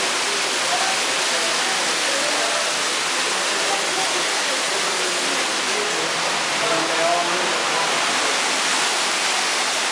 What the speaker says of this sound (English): Okay, now you can hear lots of water.